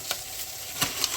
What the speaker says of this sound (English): frying up the peppers and onions